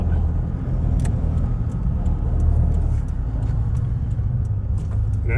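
A Toyota Hilux with a 1KD diesel engine and turbo, running on a dyno, gives a continuous low rumble of engine drone, moderately loud and steady, with faint clicks above and no talking.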